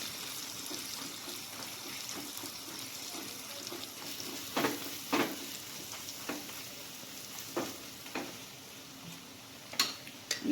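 Tindora frying in a pan in a Kathiyawadi kitchen sizzles softly while chili, coriander and cumin are stirred in, with scattered clicks and scrapes of a spoon against the pan.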